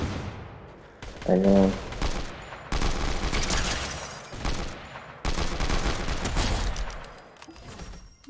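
Sniper gunfire in the Fortnite video game, sharp loud cracks and bursts of shooting in a busy battle mix, with a player talking over it.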